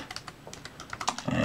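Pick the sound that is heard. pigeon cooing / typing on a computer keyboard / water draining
typing on a computer keyboard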